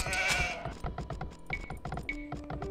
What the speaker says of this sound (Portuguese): Tem mais ovelhas aqui então pra mim pegar.